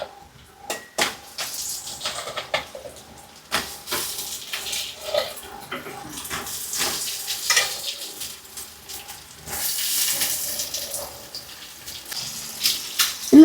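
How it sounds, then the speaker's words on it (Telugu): Crab frying in masala with ginger garlic paste and turmeric in a pan: a steady sizzle broken by many clattering stirs and scrapes against the pan, with a louder hissing stretch later on, no talk. "మా ఆయన క్లీన్ చేసి ఇచ్చిన ఎండ్రకాయని మసాలా వేస్తాను"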